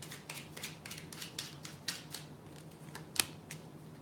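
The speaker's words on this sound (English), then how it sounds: "One more shuffle." A deck of tarot cards is riffled and shuffled in a quick run of soft, crisp flutters, with a sharper snap near the end, close and quiet in a still room.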